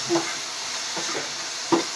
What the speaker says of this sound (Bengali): এবার আলু ভাজা হচ্ছে, তাই তো? আলু ভাজা হচ্ছে।